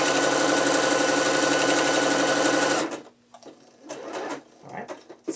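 A sewing machine stitches a drawstring side-ruched skirt, a loud steady buzzing run for about three seconds, then stops, leaving quieter handling noises and faint intermittent sounds.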